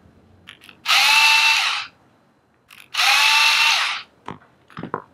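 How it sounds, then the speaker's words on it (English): A power screwdriver whirs in two separate bursts of about a second each while backing out the manifold plate screws on a Walbro WB series go-kart carburettor. Between bursts come quiet pauses and small clicks and handling noises. "So remove the screws holding the manifold plate down with your screwdriver"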